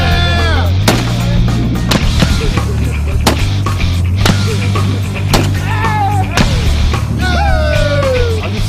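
RPG rounds fired during military training, a series of sharp, very loud blasts spaced about a second apart over steady roaring background noise.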